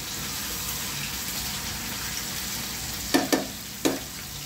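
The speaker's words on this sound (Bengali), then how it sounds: "এটা ভালো করে কষাই নিয়ে" Meat and green chillies stir-fried for biryani, a steady loud sizzle throughout with a few sharp scraping knocks of the spatula against the pot near the end, no voices.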